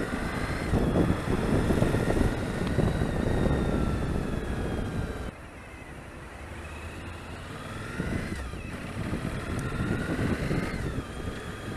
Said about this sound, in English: Engine's fairly familiar, although it's supposedly very reworked.